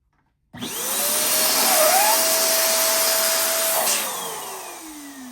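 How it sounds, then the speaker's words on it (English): Air rushes out of a balloon being deflated while making a Christmas ornament: a steady, loud hiss with a thin squealing whistle that rises and falls, fading gradually after about four seconds, with no other sounds. "Letting the air out."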